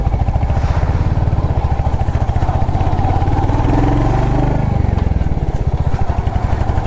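A Royal Enfield Hunter 350 motorcycle thumps along a winding mountain road, its single-cylinder engine loud and close with a steady pulsing beat that rises briefly in pitch midway through, heard alone without talk.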